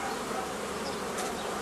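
A honeybee colony gripped by swarming fever gives off a dense, steady hum that holds evenly through the whole short stretch, close and loud with no voices over it.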